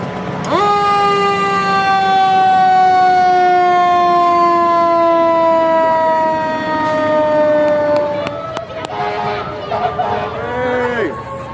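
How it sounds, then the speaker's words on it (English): Loud emergency vehicle sirens at a Christmas parade: a wail sweeps steadily downward in pitch for several seconds, then breaks into short horn blasts and a rising whoop. "if you can hear those sirens in the background"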